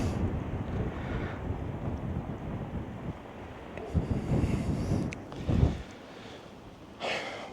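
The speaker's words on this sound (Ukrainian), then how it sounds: "Так, вітер дуже сильний." Strong wind gusts batter the microphone in uneven rumbling bursts, with loud peaks and brief lulls between them.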